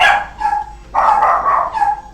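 Several dogs bark in overlapping bursts, loud and close, with yips mixed in; the barking comes in waves with brief pauses between.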